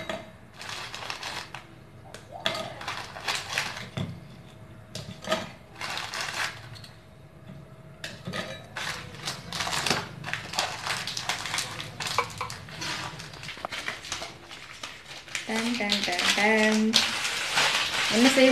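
Biscuits snapped into pieces by hand and dropped into a mixer jar for cupcakes, giving crisp cracking and crumbly crunches in irregular bursts with clattering, moving from sparse to a louder rattling stretch near the end.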